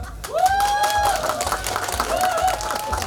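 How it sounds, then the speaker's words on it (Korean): Audience at an outdoor festival performance applauding, clapping and crowd noise under a loud voice with sliding, sung-like tones. "박수 줘봐요"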